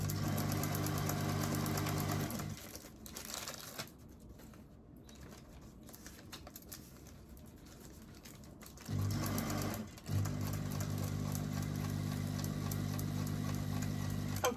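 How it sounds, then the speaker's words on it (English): A sewing machine stitches a fabric journal cover, running steadily for a couple of seconds, pausing through a quieter stretch, then resuming with a near, continuous mechanical whir to the end. "I'm sewing on the line."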